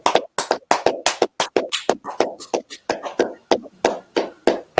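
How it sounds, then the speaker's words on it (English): A class claps hands together in an uneven, lively burst of many sharp claps, close and loud, running steadily for several seconds with no talking. "Let's clap it up."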